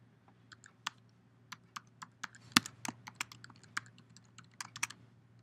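Fast, irregular keystrokes on a computer keyboard as a username and password are typed in, close and fairly quiet, each click crisp against a low steady hum, with no voices.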